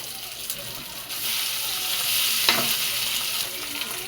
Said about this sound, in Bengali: পেঁয়াজগুলো লাল লাল ভাজা হয়ে গেছে। এবার আমি দিয়ে দেবো বাটাটা